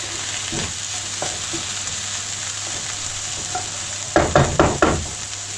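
Ground-meat filling browns in a pan with a low steady sizzle, then a burst of four or five loud scraping stirs near the end.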